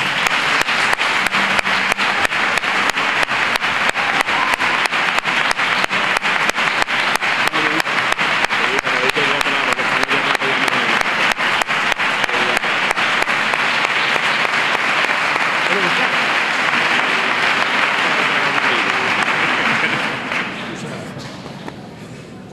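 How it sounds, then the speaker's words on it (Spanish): A loud, sustained round of applause from a crowd at a campanilleros choir gathering, dense clapping that swells and holds for about twenty seconds before fading out. "Un fuerte aplauso,"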